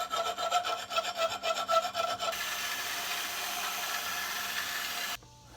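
Metal being filed by hand at the centre hole of a brake disc for a Murray Track 2 brake system, with rhythmic rasping strokes close up that blur into a steady scraping before stopping abruptly.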